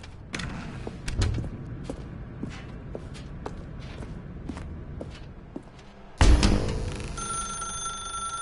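A telephone rings in a video game, with a run of sharp bell-like strikes and footsteps or shuffling, then a louder ring burst that hangs with a sustained tone near the end.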